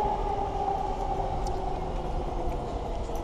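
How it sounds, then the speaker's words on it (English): A Yamanote Line E231 series commuter train passes in Tokyo, a steady loud rumble and rail hum with a droning tone that holds evenly throughout, heard from close by a street. "I hear a train coming. Yep, Yamanote Line."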